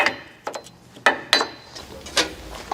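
A hammer taps parts off a new Peterbilt 389 truck during a steer axle air ride kit install: about six sharp, ringing metallic strikes at an irregular pace, close and loud, with quiet gaps between.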